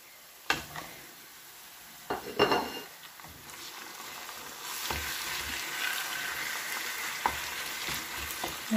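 Roughly 500 grams of partly frozen minced meat frying with mixed fresh vegetables in a pan, a steady sizzle that swells partway through, broken by several sharp scrapes and clinks of stirring.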